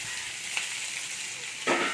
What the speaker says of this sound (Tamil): அதோட நம்ம எடுத்து வச்சுருக்க முருங்கைக்கீரையை சேர்த்துக்கலாம். சேர்த்து நல்லா வதக்கிக்கலாம்.